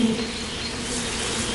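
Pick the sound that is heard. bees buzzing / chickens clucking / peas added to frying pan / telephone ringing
bees buzzing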